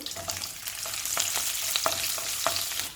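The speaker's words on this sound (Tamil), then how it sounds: "முதல்ல மசாலாவுக்கு வதக்கிக்கலாம். கொஞ்சமாக நல்லெண்ணெய், சோம்பு, இஞ்சி, பூண்டு" Ginger, garlic and fennel seeds sauté in a little sesame oil for a Chettinad white vegetable kurma masala, a continuous hissing sizzle with light, irregular taps of stirring throughout.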